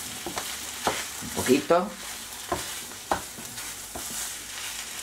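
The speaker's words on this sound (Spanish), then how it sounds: "Vamos a remover." Filling for a Galician empanada frying in a pan while being stirred, a soft steady sizzle with scraping spoon strokes, and a brief spoken remark partway through.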